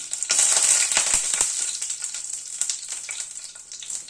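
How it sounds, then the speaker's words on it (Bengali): Dried red chilli, a bay leaf and five-spice seeds sizzle and crackle in hot oil, a bright continuous frying hiss with sharp pops, close and alone. "একটা শুকনো লঙ্কা ফোড়ন দিলাম, একটা তেজপাতা ফোড়নে দিলাম, হাফ টিস্পুন 5 ফোড়ন দিলাম।"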